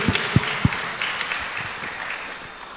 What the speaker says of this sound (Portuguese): Vamos dar uma salva de palmas para esse Jesus?